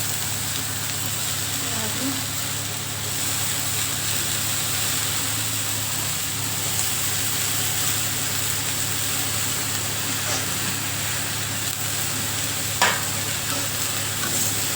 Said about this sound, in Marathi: चांगली भाजी आहे ना तीच परतून घ्यायची डाळीमध्ये कांद्यामध्ये चांगली मिक्स करून घ्यायची